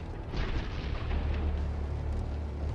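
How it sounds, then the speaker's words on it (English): Tank ammunition cooking off in a fire after an FPV drone strike, heard as a continuous low rumbling roar with crackling bursts, loud and steady throughout with no talking. "when the fire reaches the ammunition, we see bright sparks from the explosion"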